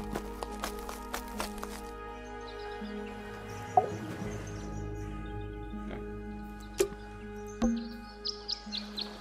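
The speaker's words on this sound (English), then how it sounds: "There, those are birds. Those are birds." Birds chirping in the puzzle adventure game Tangle Tower: scattered short tweets and calls over a steady, sustained musical drone, with the chirps clustering near the end.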